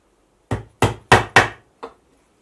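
Upholstery tacks are driven into webbing with a hammer, giving five sharp, close blows: four strong, evenly spaced strikes and then a lighter final tap, with no voices.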